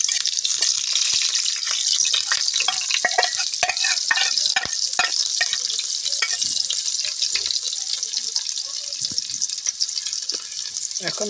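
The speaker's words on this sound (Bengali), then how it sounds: "এখন আমাদের যে তেলের কড়াই আছে এটা তেল দিয়ে গরম করতে হবে।" Oil heats in a kadai before greens and eggs are fried, making a continuous crackling sizzle with sharp clicks and scrapes of stirring on top, close and fairly loud.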